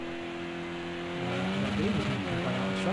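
Engine of a black and green Monster Energy race car in the Project CARS racing game during a night club race, droning steadily and then swelling louder and higher as it accelerates, with pitch shifts like gear changes.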